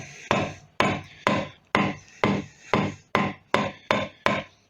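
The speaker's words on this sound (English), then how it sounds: "can be eliminated just by properly hammering in your fret" A guitar fret is hammered into the fretboard with ten sharp, evenly spaced taps, each close and ringing briefly before the next, with no talking.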